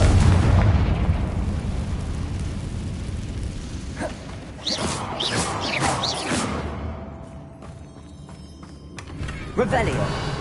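Hogwarts Legacy's Confringo spell goes off as a blast that rumbles loudly at first, followed by crackling bursts and fainter pops in the game's soundscape, with spoken incantations heard around it.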